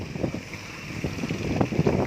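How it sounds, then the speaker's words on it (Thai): A longtail boat engine on the Pattani River drones over gusty wind noise, a rough, continuous rumble from a moderate distance. "นั้นเรือหางยาวครับผม"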